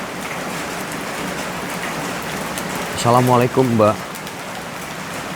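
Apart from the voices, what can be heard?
heavy rain falling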